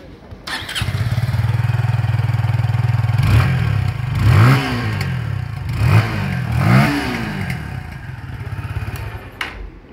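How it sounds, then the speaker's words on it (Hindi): A Kawasaki W175 single-cylinder motorcycle starts and settles into a steady, close-up exhaust thump, then is blipped through several quick revs before returning to idle. "तो ये था इसका एग्जॉस्ट नोट।"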